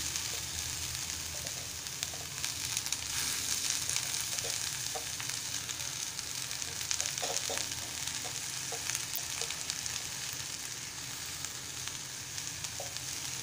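Onion and taklya greens sizzling in hot oil in a pan, a steady close frying hiss with occasional soft stirring taps and no talking.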